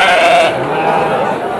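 Female Garut sheep bleat at the Tanjungsari sheep market in Sumedang, with one loud, close, wavering bleat at the start that trails into a quieter one amid market background noise.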